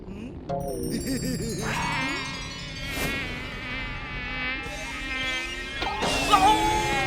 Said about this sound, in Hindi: एक मिनट, मच्छर